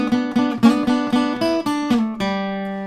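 An electric guitar plays blues double stops and triplets in E, with about nine plucked two-note attacks in a quick lilting rhythm and the last chord left ringing and fading.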